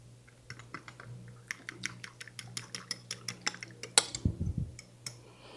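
Melted butter and cocoa get stirred in a bowl, heard as a quick run of light rhythmic clicks and taps from the utensil against the dish, faint and close, with one low scraping bump near the end.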